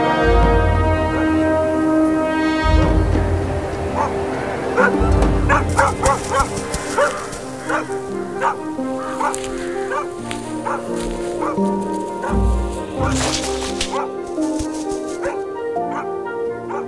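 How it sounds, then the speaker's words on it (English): Dogs bark outdoors at night, a string of repeated barks and yips with short whimpering notes, heard over a low background and under a narrator's voice. "these barks in the distance alert the vigilant mother"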